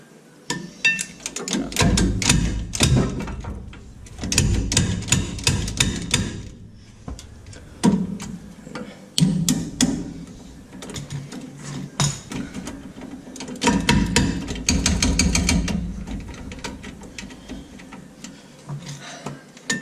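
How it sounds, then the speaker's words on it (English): A ratchet wrench working on the rear brakes of a GMC Sierra: bursts of rapid metallic clicking with knocks and clanks, loud and close, broken by short pauses. "I'm gonna break my ratchet wrench."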